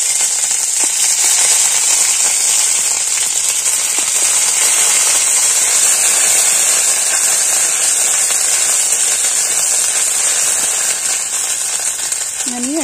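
Ginger paste sizzles in a cumin tempering in a pan, a loud steady frying hiss with crackly pops running throughout, with a brief voice-like tone near the end.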